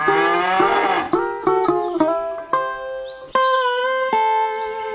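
Several cartoon cows moo in a row, long deep bellowing calls following one another closely, loud and near with no talking.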